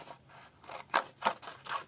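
Scissors cut paper into an oval for a scrapbooking project: a run of about six crisp snips, quiet at first and growing sharper and louder.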